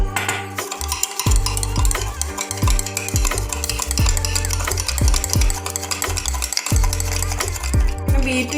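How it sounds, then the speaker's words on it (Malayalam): A spoon beats instant coffee mix in a cup or bowl for café-style whipped coffee, scraping in a steady, continuous rhythm of clinks and stirring strokes that stays close and fairly loud, with no talking. "എൻ്റെ കയ്യിൽ ഇപ്പോൾ അതില്ലാത്തത് കൊണ്ട് ഞാൻ സ്പൂൺ വെച്ചാണ് ബീറ്റ് ചെയ്യാൻ പോകുന്നത്."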